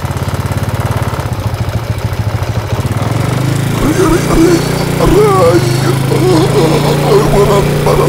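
An old, worn motorcycle engine keeps running, first as a fast rough idle, then as a heavier, louder chugging rumble. Someone talks over it.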